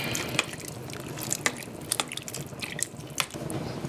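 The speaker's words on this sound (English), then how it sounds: "I'm going to add 2 teaspoons of garlic puree and give that all a quick stir into the soup." Garlic puree is stirred quickly into a pot of cream of cauliflower soup, producing soft wet sloshes and scattered clinks from the utensil, close and moderately loud, with no talk.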